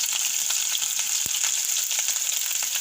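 Cumin, garlic and ginger sizzle steadily in hot oil, a dense, even hiss with small pops and one soft knock, no voices.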